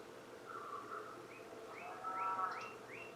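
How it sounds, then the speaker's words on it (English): Northern cardinals call at a backyard bird feeder: a few faint, thin, rising chirps repeated in a loose series, distant over a quiet background hum. "We have the northern cardinals coming to our bird feeder."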